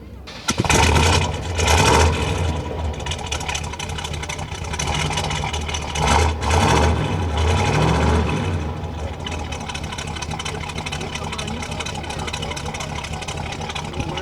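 A 1969 Oldsmobile 442 at an outdoor car show cranks and fires up with a loud revving burst, then settles into a deep, steady throaty idle, with voices over it.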